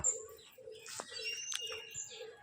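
Pigeons in a coop give repeated low cooing phrases in a steady rhythm, with brief chirps and bird calls layered above and a short flutter of wings in the middle.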